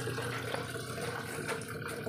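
Water runs steadily from a tap beside a spin dryer under repair, a close, continuous broadband rush with no pauses.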